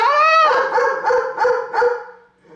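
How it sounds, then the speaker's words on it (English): A dog barks insistently and loud, opening with a drawn-out yelping bark and then four sharp barks in quick succession before the sound fades out. "the fucking dog won't stop barking"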